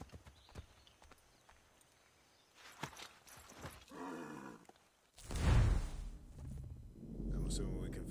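Horse hooves clip-clop in a loose rhythm in the video game Assassin's Creed 3 Remastered, followed by a louder rushing rumble and swelling background noise.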